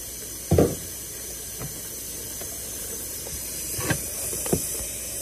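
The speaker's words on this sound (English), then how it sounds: "I got my water running right now" Tap water runs steadily into a sink as a broad, soft hiss, with a few brief louder splashes and knocks as items are dropped in.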